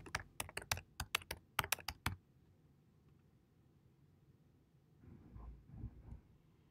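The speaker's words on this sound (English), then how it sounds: "You can also type a keyword in the general search box." A computer keyboard clatters as a keyword is typed into a general search box: a quick burst of crisp keystrokes, then quiet room tone and a few faint soft knocks.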